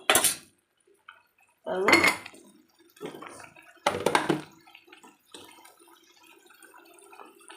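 Colocasia fry is stirred in a pan in separate bursts of spoon scraping and clinking against metal, with quieter gaps between strokes.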